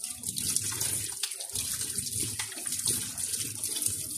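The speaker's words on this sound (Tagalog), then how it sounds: "Ugasan lang po natin itong ating Scotch Brite" Water runs from a tap as a Scotch Brite sponge is rinsed under it, a steady splashing flow with brief interruptions and changes as the sponge moves through the stream.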